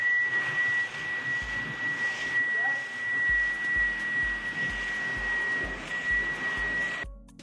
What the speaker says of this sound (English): I'm just gonna use this little head from that came with my Dyson. I'm actually gonna put it on burst